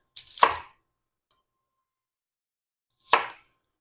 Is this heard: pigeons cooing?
no